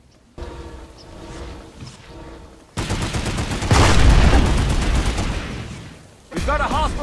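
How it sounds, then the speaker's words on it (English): Anti-vehicle phalanx turret in the PlanetSide 2 video game firing high explosive rounds, a loud rapid rattling volley of booming shots lasting a few seconds, preceded by quieter rumbling and followed by a short high electronic warble. "The anti-vehicle phalanx turret offers great defense against ground vehicles with its high"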